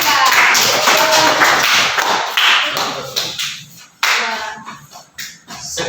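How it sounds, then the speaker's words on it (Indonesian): Students in a classroom clap for a presenting group: dense, loud, close clapping blurs into a continuous wash of noise, thinning out partway through before picking up again. "tepuk tangan untuk kelompok 3"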